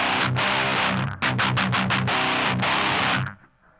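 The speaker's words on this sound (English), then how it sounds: "So what happens though if we go to a distortion?" An electric guitar plays through heavy distortion: a few sustained chords, then a quick run of choppy strums, more chords, and a ringing decay at the end.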